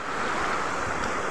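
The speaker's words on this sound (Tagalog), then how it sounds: "Ang saya ng alon." Ocean waves washing onto a beach at Infanta, Quezon in the Philippines, a steady close roar of surf with no voices.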